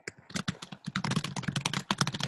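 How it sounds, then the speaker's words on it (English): Rapid, close keystrokes on a computer keyboard form a dense, uneven clatter that runs continuously with only brief gaps. "Sorry, I'm typing."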